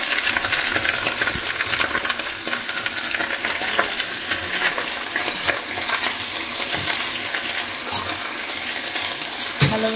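Choy sum stir-fried in a hot pan for a Chinese-style dish, giving a steady, loud broadband sizzle throughout with scattered stirring clatter and a sharper knock near the end, no voices present.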